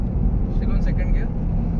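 An old Honda Accord, around fifteen years old, drives in second gear, its steady engine and road rumble loud and close, with a voice talking over it.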